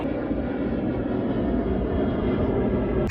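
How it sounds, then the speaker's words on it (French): Steady broadband roar of an airplane passing overhead outdoors in a tropical setting, loud and continuous with no talk. "c'est bon, il n'y a plus l'avion"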